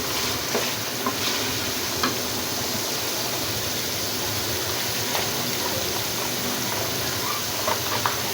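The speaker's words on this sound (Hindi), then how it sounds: "थोड़ा सा इसको भूनते हैं" Masala for chicken tikka salan fries in a pan, giving a steady, close hiss of sizzling with soft stirring scrapes and small pops throughout and no talking.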